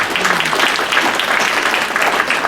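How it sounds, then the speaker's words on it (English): Steady, dense applause from a town hall audience at a community college, filling the whole stretch at an even level without a clear break. "But anyway, a round of applause."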